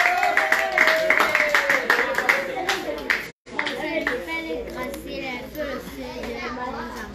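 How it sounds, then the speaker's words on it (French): A group of children at an orphanage claps rhythmically with quick, sharp, close hand claps mixed with excited children's voices, a brief cut partway, then more clapping and chatter. "Applaudissez pour elle."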